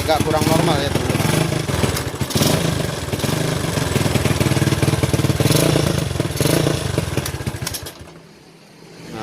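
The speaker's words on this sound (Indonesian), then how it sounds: "untuk motornya sudah hidup" A Honda GL Max 100 motorcycle engine runs steadily at idle with a carburetor running slightly off, a loud continuous mechanical drone that drops away near the end.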